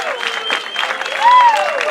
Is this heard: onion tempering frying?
no